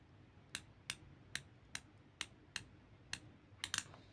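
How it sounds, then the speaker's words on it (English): Unidirectional rotating bezel on a TAG Heuer Professional 200M WN1210 diver's watch clicking as it turns, giving about ten crisp, close, quiet ticks at uneven intervals, with a quick double click near the end. "I rotate for you. You hear the clicking sound when I turn"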